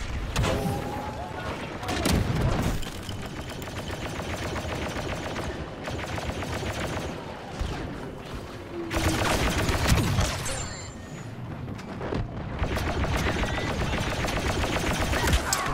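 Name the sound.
gunfire in the video game Star Wars Battlefront 2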